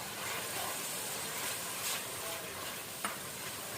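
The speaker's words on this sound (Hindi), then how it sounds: "जिंजर गार्लिक पेस्ट जो है उसकी भुनाई कर रही है अच्छी तरह से" Whole spices and ginger garlic paste fry in a pan for a chicken curry with potatoes and peas. The soft, steady sizzle is faint and continuous, with a small clink near the end.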